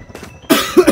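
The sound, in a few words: coughing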